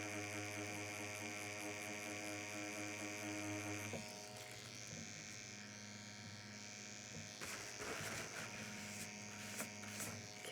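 Rock Quill tattoo machine with a 4 flat micro PMU needle cartridge buzzing while shading, a faint steady electric hum with a change in tone partway through, and some handling noise.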